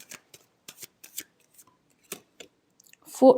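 Tarot cards being shuffled, a series of short, crisp riffling flicks and taps in irregular bursts, close and fairly quiet, followed by a brief louder thump at the end, with no talk.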